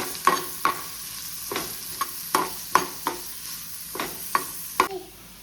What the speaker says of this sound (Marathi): बरें तळसून घेता आतां